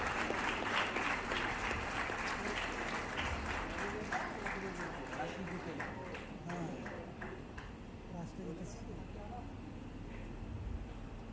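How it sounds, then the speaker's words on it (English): An audience at an international human rights moot court competition applauds the runner-up team. The clapping is dense and loud at first, then thins and fades, and voices can be heard in the hall. "Come on guys, more claps."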